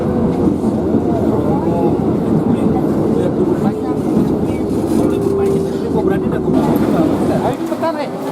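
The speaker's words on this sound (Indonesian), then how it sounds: "Kereta pertama membawa rombongan menuju Stasiun Duri." A steady, loud rumble of a moving commuter train bound for Duri Station fills the clip with a continuous droning hum, while a voice talks over it.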